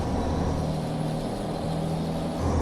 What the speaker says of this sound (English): Listen, the truck just struggling to carry this engine, just fighting.